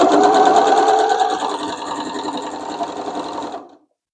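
A sewing machine stitching a Christmas quilt with a lengthened 2.4 stitch runs in a fast, steady whirring hum, close and loud, slowing slightly before stopping abruptly near the end.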